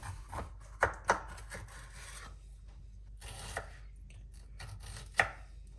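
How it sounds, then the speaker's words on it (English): A knife chops feta cheese and pepper into small pieces for a Greek-style stuffed lamb, giving a few sharp, close board knocks with soft scraping and rubbing in between. No one speaks. "feta cheese, let's chop it on a very small pieces. And the same with the pepper."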